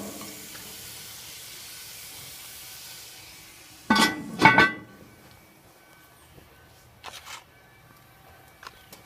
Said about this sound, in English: You can hear it sizzling right now.